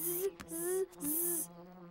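Cartoon pig characters imitate buzzing bees with their voices, producing three droning hums in quick succession, close and clear, the last one trailing off.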